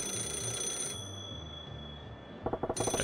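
A phone-booth telephone in Yakuza 0 rings in repeated electronic trills, first a steady tone, then after a pause a burst of rapid pulsing rings over a faint game background, with no talking.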